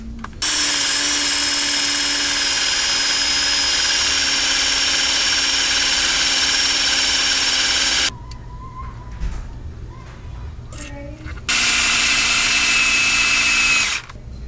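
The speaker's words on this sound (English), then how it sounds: "now what we're going to do is drill until the tape mark reaches the face and then stop" A power drill whines loudly and steadily for several seconds while boring into a HEMI engine's crank pulley, stops briefly with a few clunks, then runs again.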